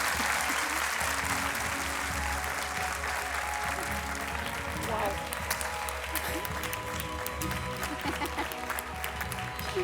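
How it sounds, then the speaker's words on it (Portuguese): An audience claps steadily for several seconds, a dense wash of applause at moderate distance with some crowd murmur underneath. "Um aplauso para ela."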